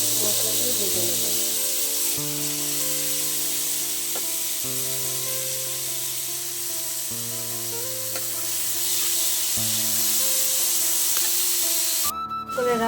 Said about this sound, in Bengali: জিরে ফোড়ন দিয়ে আমি মোচাটাকে দিয়ে ভালো করে নেড়ে চেড়ে মশলা দিয়ে ভেজে নেবো